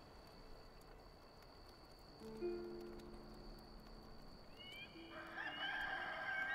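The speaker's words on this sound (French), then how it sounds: "le coq chante. C'est le jour." A rooster crows at dawn in the survival game Enshrouded. Several fairly distant cock-a-doodle-doo calls rise out of soft ambient noise, with a second, overlapping crow toward the end.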